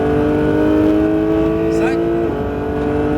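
Porsche 911 GT3 on the Mirevail race circuit, engine note holding steady at high revs, loud and close from onboard, with a brief rising whine near the middle while an instructor talks throughout.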